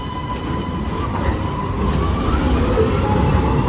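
A tram rolling along a city street in Istanbul, a steady loud rumble and rail noise filling the scene throughout with no pause, heard close from the roadside.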